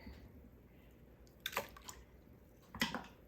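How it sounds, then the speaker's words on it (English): Paper pulp slurry poured from a one-cup measure into a container of clean water gives two brief wet splashing pours over quiet background, each a short gurgling burst. "I'm going to put 2 cups of the slurry into just some nice clean water"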